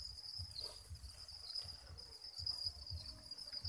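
Pet crickets kept on vegetable greens chirp in a steady, faint, high-pitched trill that runs on without a break.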